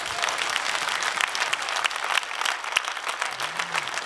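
A studio audience applauds during a live Armenian folk music TV show, a dense and steady wash of clapping from many hands that holds at an even level throughout, with no talking over it.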